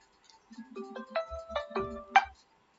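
A mobile phone ringtone plays a bright electronic melody of several rising tones, clear and close in an otherwise quiet room.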